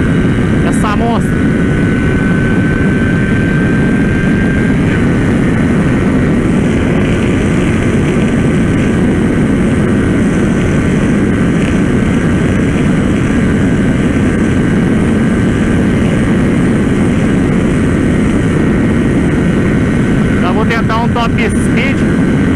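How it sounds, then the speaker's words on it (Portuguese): A Kawasaki Ninja 400 motorcycle, still new and not broken in, roars continuously at high speed under heavy wind rush, the engine droning loud and close throughout. "Tô aqui com a Ninja 400, louco pra dar uma acelerada mais forte"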